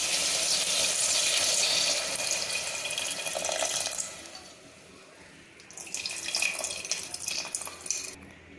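Tamarind water pours steadily into a pan in a loud continuous splash, trailing off, then a second shorter pour follows nearby.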